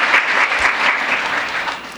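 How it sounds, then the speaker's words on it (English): A crowd at a youth peace conference applauds steadily and fairly loudly, dense clapping throughout without any talking. "Let's give him another round of applause."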